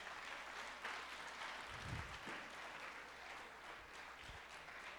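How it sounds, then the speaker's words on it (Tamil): Applause at a graduation ceremony during an annual day event: a steady, fairly dense crowd clapping that continues throughout at moderate distance, with a few low thumps but no clear talk over it. "எல்லாரும் ஒரு பலத்த கைத்தட்டல் கொடுங்க"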